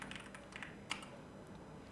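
Light, quiet typing on a computer keyboard, quick soft clicks in a loose run with one slightly sharper keystroke, heard close with no voices.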